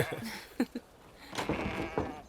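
Goats bleat in several short cries, close and fairly loud, alone without speech.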